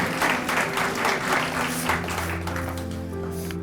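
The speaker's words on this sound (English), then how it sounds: "I think we should clap for her again." Audience applause at a building renaming ceremony, moderate clapping from a gathered crowd that eases off as a low hum and soft voices take over.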